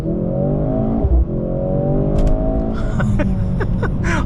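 A 2-liter four-cylinder in a Mercedes-AMG C63 revs hard in Sport Plus on a track, a loud, sustained rising engine note with a brief dip and crackling bursts toward the end.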